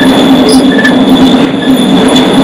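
Freight train cars roll past close by during trainhopping somewhere in America, wheels squealing in a steady high whine over a continuous loud rumble, with no voices.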